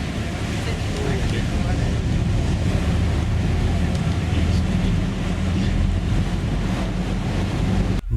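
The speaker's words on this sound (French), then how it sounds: "le port n'est pas protégé des vagues et des embruns" Sea waves and spray at the unsheltered harbour of Positano on the Amalfi Coast: constant loud surf wash under heavy wind buffeting on the microphone, with a ship's engine rumble underneath.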